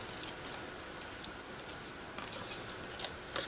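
Scissors snip through paper for a collage, with a few light, close cuts and soft rustling over a quiet room.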